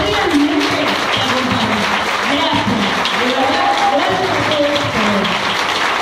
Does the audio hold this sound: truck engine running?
no